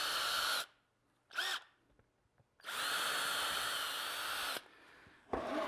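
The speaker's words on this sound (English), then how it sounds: "This series of holes drilled through the grooves will be used for screws to assemble the" A power drill bores holes through the grooves of a cabinet case panel, producing loud, close whining runs: a short burst, a brief blip, then a sustained two-second drilling pass and another start at the end.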